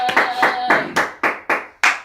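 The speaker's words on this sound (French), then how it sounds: "On acclame très fort" A church congregation applauding loudly, with sharp, rhythmic group clapping close by, about eight strong claps in steady succession.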